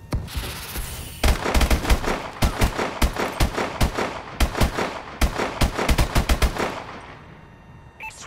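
Video game gunfire: a long run of loud, sharp automatic bursts and single cracks in uneven clusters over about seven seconds, then trailing off into quieter game ambience.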